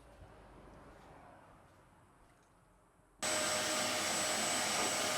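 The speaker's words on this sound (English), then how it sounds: "I'm going to turn the vacuum cleaner on" A vacuum cleaner switches on abruptly after a few seconds of quiet room tone, then runs loud and steady with a broad roaring whoosh and a high whine, close by.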